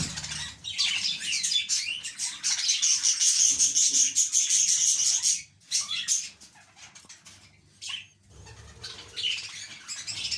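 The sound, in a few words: budgies chirping in a breeding colony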